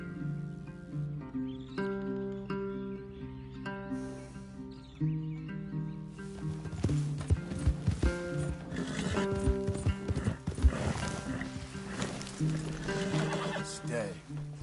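Horses clip-clop and snort in Red Dead Redemption 2, with a whinny over orchestral game music; the hoofbeats grow busier and louder halfway through.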